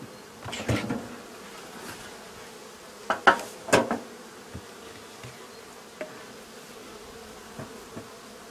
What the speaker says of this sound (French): Donc déjà j'ai les abeilles dans la housse, c'est déjà bon signe.